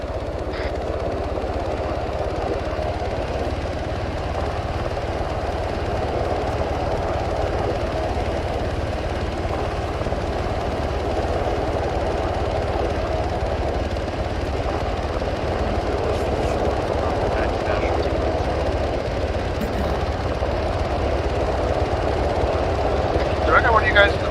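Helicopter rotor and engine drone a steady, loud, continuous hum throughout a long stretch of Arma 3 gameplay, with players' voices over the top.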